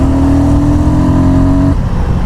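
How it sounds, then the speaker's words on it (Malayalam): A Royal Enfield Guerrilla 450 single-cylinder engine draws air through its airbox with a loud, steady droning hum, which drops off abruptly near the end. "air in to the engine പോകുന്നതിൻ്റെ ആ ശബ്ദം, ത്രൂ ദ എയർ ബോക്സിൽ കയറി പോകുന്ന ശബ്ദം കേൾക്കാം"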